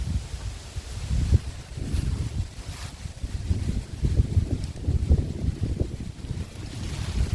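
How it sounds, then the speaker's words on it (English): Strong wind gusting over a dirt trail outdoors, a loud, constant low rumble of buffeting against the microphone with irregular surges and no speech. "That's pretty windy out today. The wind is whipping."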